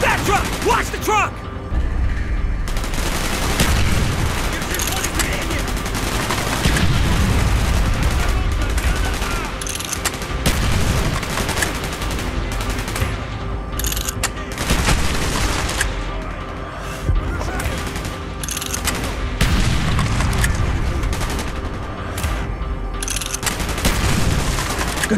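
Gunfire in Call of Duty: Black Ops, loud and continuous, with rapid automatic bursts, single shots and booming blasts layered over each other for the whole stretch, while voices call out now and then beneath the shooting.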